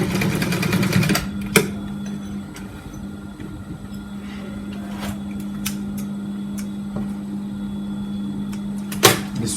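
A sewing machine stitches a sleeve onto an armhole with a steady mechanical hum and rapid needle chatter, broken by a few clicks and knocks as the work stops and restarts.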